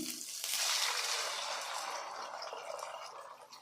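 Water poured into a hot pan of rice rava upma with avarekaalu beans gives a loud sizzling, hissing rush that peaks early and then gradually fades, with no talking.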